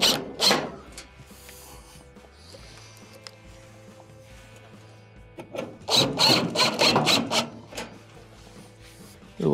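A drum unit is lifted and slid into place, then its two top screws are driven back in, giving quiet scraping, rubbing and clicking handling noises over a low steady hum, busiest near the end.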